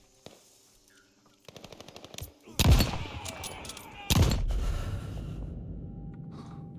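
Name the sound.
gunfire in the video game Call of Duty Vanguard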